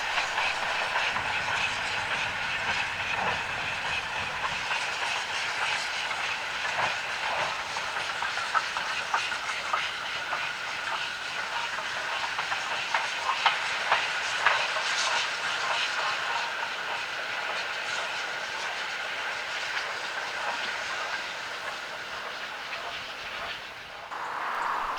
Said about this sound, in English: 4160 is seen running downgrade with the 9 a.m. Minehead to Bishop's Lydeard goods, hauling a single flat wagon